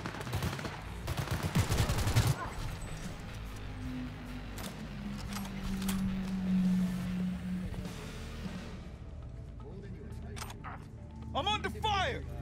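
Gunfire during a combat scene in the video game Cyberpunk 2077, bursts of shots and impacts running through the scene over a steady game soundscape, with someone talking across it.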